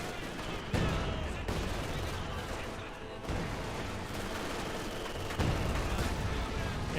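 An artillery barrage in Company of Heroes 2 rumbles on in a dense, continuous roar of booms and gunfire, with heavier blasts landing every few seconds and a voice faintly under the din.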